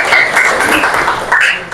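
A high school classroom breaks into applause, a brief, loud, steady burst of many hands clapping together at close range.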